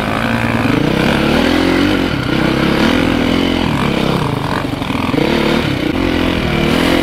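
An enduro motorcycle rides along a muddy road, its engine droning loud and steady with slight rises and falls in revs, close to the listener and with no talking.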